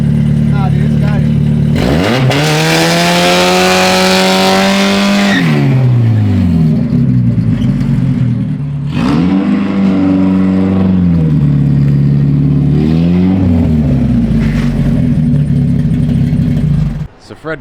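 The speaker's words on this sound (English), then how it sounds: "Do a burnout, do a burnout, do a burnout." A Chevy OBS truck with an LS7 engine roars through repeated loud revs during a burnout, rising and falling in three or four long surges, close and dominant with occasional voices underneath.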